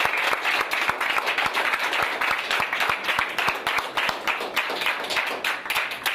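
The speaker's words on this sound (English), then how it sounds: "How about just one big round of applause?" Audience applause at a teacher appreciation event, a full crowd clapping loudly and continuously, with individual sharp claps standing out from the dense, sustained roar.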